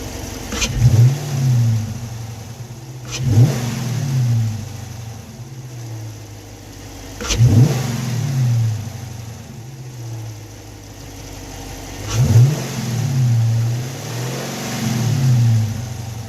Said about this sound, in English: I'm gonna give it some gas and see if I can hear anything.